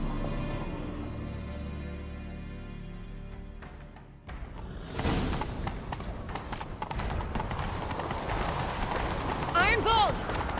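A horse gallops in the video game Witcher 3: Wild Hunt, with rhythmic clip-clopping hooves, starting after a quiet musical stretch, with a brief whinny near the end.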